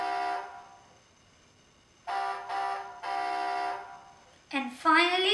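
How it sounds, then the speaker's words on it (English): A 2014 Hess toy truck sounds its electronic horn in a few short, bright, buzzy honks close to the microphone, followed by a rising electronic tone at the end. "You've got a honk."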